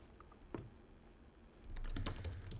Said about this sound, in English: I wonder if I can type it here.